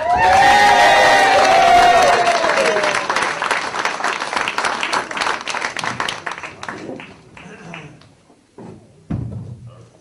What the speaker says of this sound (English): A big round of applause for Miss Rachel Burch.